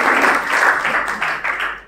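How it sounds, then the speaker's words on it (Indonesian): Congregation at a Pentecostal church service clapping for God, a short burst of many hands applauding close and fairly loud, trailing off. "Yang setuju boleh lambaikan tangannya dan tepuk tangan buat Tuhan."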